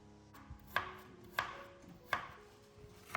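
Knife chopping kaffir lime leaves on a cutting board, four sharp evenly spaced chops, close and clear over quiet background.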